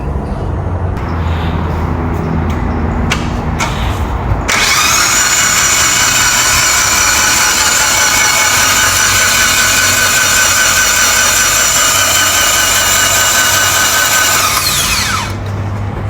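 A Mitsubishi Evo 9 engine cranks on the starter for about ten seconds with a loud, steady whirring drone to clear the cylinders before new spark plugs go in, preceded by a few mechanical clicks and clunks.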